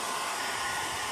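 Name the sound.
hair dryer blowing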